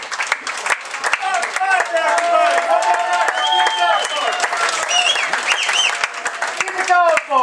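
Crowd applause for performers at a live comedy show, steady dense clapping filling the room with some cheering and voices mixed in throughout.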